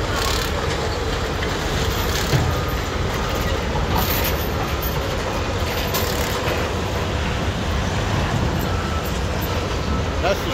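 A car shredder at a metal recycling yard on Long Island, New York, processing flood-damaged cars, gives a steady, loud, continuous industrial roar with grinding rumble throughout.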